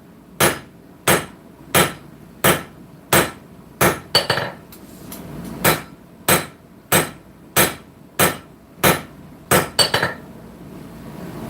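A 5.5 pound hammer strikes steel while a blacksmith knife is forged, about fifteen sharp ringing blows in a steady rhythm with short pauses, close and loud.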